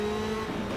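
A race car passes on the track in a racing video game near the Bruxelles corner, its engine a steady droning tone shifting slightly in pitch.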